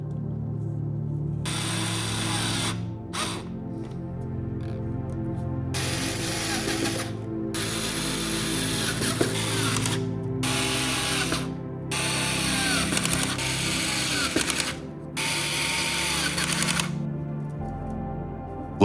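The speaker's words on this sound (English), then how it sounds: "We screw the brackets to the wood." Screws are driven into wood with a power screwdriver to fix brackets for a homemade air conditioner, in bursts of close, whirring ratcheting separated by short pauses over a steady background hum.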